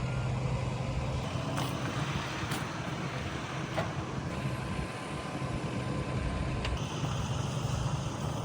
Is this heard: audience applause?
no